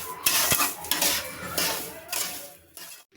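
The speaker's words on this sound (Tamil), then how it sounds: "அப்படியே ஒரு மிக்ஸ் பண்ணிக்கோங்க." Rava laddu mixture with fried cashews and dry grapes is stirred in a pan, loud metallic scraping and clattering strokes repeating in quick succession, close by, ending abruptly.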